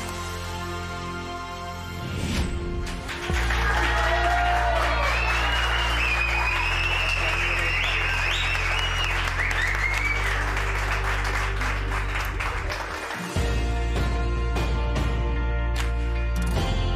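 A television talent show audience applauds and cheers loudly and steadily while music plays underneath, with a short dip in the low end before the clapping continues.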